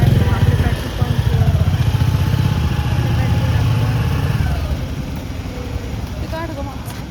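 A motorcycle idles at a petrol pump with a steady, throbbing mid-pitched engine putter. The putter eases slightly toward the end, and people talk over it.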